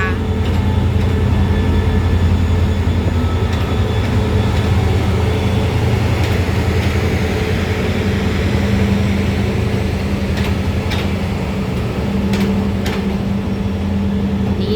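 A steady, loud rumble of a Thai passenger train rolling along the rails, with continuous low clatter and a few faint higher squeals, no pauses throughout.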